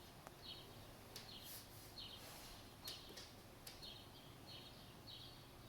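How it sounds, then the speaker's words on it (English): Many birds sing outdoors at once, with faint, distant chirps and short trills repeating over a quiet background hiss. "I've never heard so many birds singing outside all at once"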